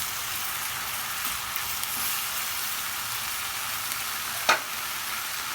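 Peppers and onions fry in a pan with a steady, close sizzle that holds throughout, and one sharper crackle or pop rises near the end.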